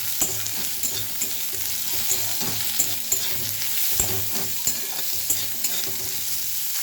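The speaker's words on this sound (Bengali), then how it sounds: "আলু উচ্ছে আমার ভাজা হয়ে গেছে" Bitter gourd and potato pieces fry in oil in a pan, a continuous close sizzle broken by repeated scraping strokes of a spatula stirring them, with no talking.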